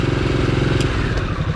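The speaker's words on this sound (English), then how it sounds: "Won't rev in neutral. It's there to protect the engine," Harley-Davidson Nightster 975 from 2022 idling in neutral, its engine briefly blipped but held back by a rev limiter, a close, steady, lumpy throb with faint clatter and no talk.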